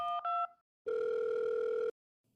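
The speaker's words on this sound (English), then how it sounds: "Lily picked up a phone receiver on the wall, dialed 3 numbers, and waited." A wall-mounted telephone gives brief dialing tones, then a single sustained tone of about a second that cuts off into silence, clean and close.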